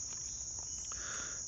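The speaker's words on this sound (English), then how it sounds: "the sound of crickets" Crickets chirp in a steady, continuous high-pitched trill, even and unbroken throughout with no other sounds.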